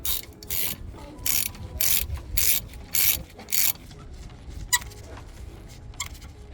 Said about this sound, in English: So we're going to use a 7 Allen key bit, just get it on our socket over here, and then crack these bolts loose.